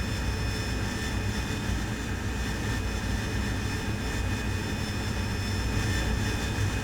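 An AV-8B Harrier in the DCS flight simulator landing, its jet engine roaring loud and steady with a constant high whine throughout, no voices.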